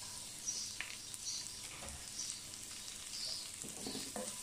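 Chopped onions fry in a pan for a broccoli and chicken keto dish, making a continuous soft sizzle with occasional light crackles and a few faint high chirps.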